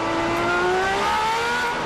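Onboard the Liverpool SuperLeague Formula race car at Donington Park, the engine screams loud and steady at high revs, its pitch rising smoothly as the car accelerates.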